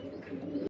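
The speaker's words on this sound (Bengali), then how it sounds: "আফসান গ্রিজেল বুদাপেস্ট কবুতর আছে" A single short, low throaty coo from an Afshan grizzle Budapest pigeon, close and soft, cut off abruptly after less than a second.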